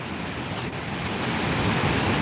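Roaring rush of the Paterson Great Falls waterfall on the Passaic River in New Jersey, a steady dense wash of falling water heard outdoors, continuous and fairly loud with no voices.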